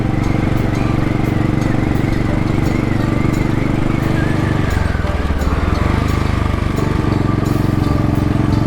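A Royal Enfield Bullet 500 motorcycle is ridden through the Welsh countryside, its engine a close, loud, continuous low thump that drops briefly in pitch midway before pulling steadily again.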